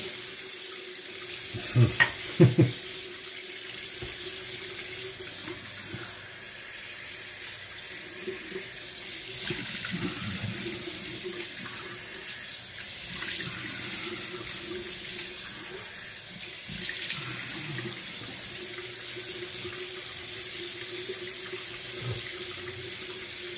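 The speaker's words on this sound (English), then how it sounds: "And I've rinsed the alum off and pat my face dry." Tap water runs steadily into a sink while alum is rinsed off a freshly shaved face after a straight razor wet shave, a continuous close stream with a few brief splashes near the start, no talking.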